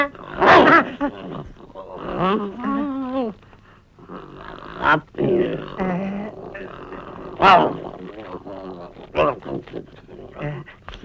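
A voice barks like a dog in a Tamil comedy scene, giving a few loud, gruff bursts mixed with other talk.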